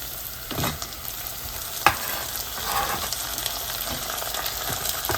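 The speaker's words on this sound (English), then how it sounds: "so now we are going to put the tomatoes in." Tomatoes added to softened, light pink sautéed onions fry in a pan with a gentle, steady sizzle, broken by a few soft stirring scrapes and one sharp clink, close and fairly quiet with no talking.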